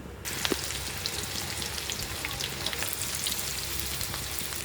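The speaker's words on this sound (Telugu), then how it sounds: "ఆయిల్ హీట్ అయ్యాక దీనిలో ఉల్లిపాయ ముక్కలను కూడా యాడ్ చేసుకోవాలి" Onion pieces fry in hot oil in a pan, a steady close crackling sizzle with scattered pops that starts suddenly and continues evenly throughout.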